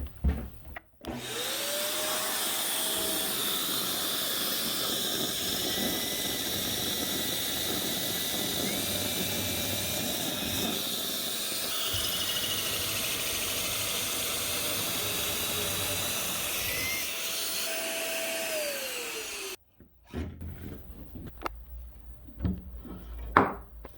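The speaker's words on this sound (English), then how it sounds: "let's connect our vacuum" A shop vacuum runs at a steady loud roar during a custom woodworking desk build, starting abruptly and running for about twenty seconds before cutting off, followed by light workshop knocks.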